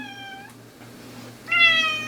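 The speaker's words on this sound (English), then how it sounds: "That's my kitty. Yeah. He's joining us." A pet cat meows twice indoors, a short clear meow followed after a pause by a louder, longer one, close by over a faint steady hum.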